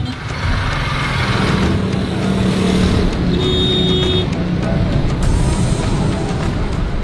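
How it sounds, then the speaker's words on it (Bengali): Congested traffic in a narrow street in Lahore, a dense continuous rumble of idling and creeping engines close by, with a brief horn-like tone in the middle. "লাহোরে ভারী যানজট এড়ানোর আরেকটি উপায় হলো গলিতে ঢুকে পড়া"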